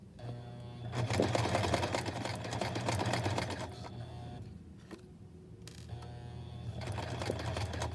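A sewing machine stitches an invisible zipper in several bursts of rapid, rattling needle clatter, close and loud, with brief pauses between runs.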